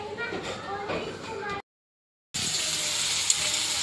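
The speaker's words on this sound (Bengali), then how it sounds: "আর হচ্ছে কুমড়ো ভাজা করে নিচ্ছি" Pumpkin frying in a pan in a home kitchen, a steady close sizzle broken by a short silent gap before the hiss resumes, louder and brighter, with faint voices underneath at the start.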